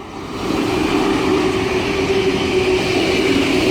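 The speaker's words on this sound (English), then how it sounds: "Whilst we have another empty train about to come up the up main." An empty Sydney S-set passenger train rumbles past close by with a steady, dense roar of wheels and motors that builds quickly and then holds loud throughout.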